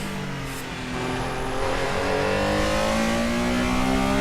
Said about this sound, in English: Sounds like a Volkswagen Beetle's engine on steroids.